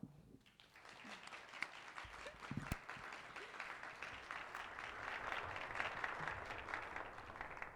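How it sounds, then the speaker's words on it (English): Audience applause at a high school homecoming coronation, sustained clapping from a crowd that swells slightly, heard at a distance and fairly faint. "Let's give them all a round of applause."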